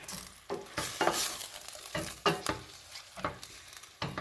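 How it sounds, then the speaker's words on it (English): Chicken shashlik mixture is stirred in a hot pan. A spoon scrapes and clacks in regular strokes over a steady sizzle, close and alone. "Let's mix it all together"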